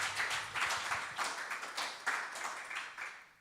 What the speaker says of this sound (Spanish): Démosle fuerte el aplauso al Señor esta tarde.